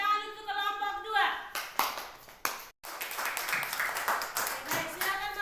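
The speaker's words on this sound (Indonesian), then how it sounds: "Tepuk tangan untuk kelompok 2." A classroom group claps for a student group after their presentation, a burst of mixed applause from the class rising after children's voices and continuing with chatter throughout.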